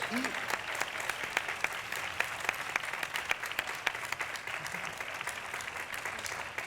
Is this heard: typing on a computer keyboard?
no